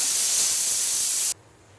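A pressure cooker cooking dal whistles: a loud, steady rush of steam hissing out under pressure, then cutting off abruptly after a little over a second.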